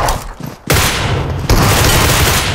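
Gunfire in the mobile battle game PUBG Mobile Metro Royale comes as loud, close bursts of rapid shots, with a brief dip before the firing resumes and holds strong to the end.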